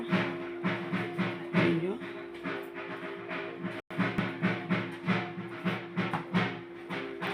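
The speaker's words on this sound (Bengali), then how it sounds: "পুজোর আয়োজনও শুরু হয়ে গেছে ঢাক বাজছে" A dhak drum is played for a Manasa puja, its beats falling in a quick, regular rhythm of strong strokes at moderate distance, with a brief pause partway through.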